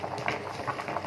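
Wild bitter tubers boil in salted water in a covered pot, giving a brief, close bubbling and gurgling with soft popping bursts, heard on their own.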